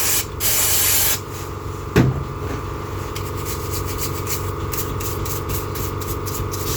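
Aerosol contact cleaner is sprayed onto the electrical contacts of a 1995 Georgie Boy Swinger 32 ft diesel motorhome, with a loud close hissing burst at the start, then a brief knock, followed by a steady lower hiss and hum.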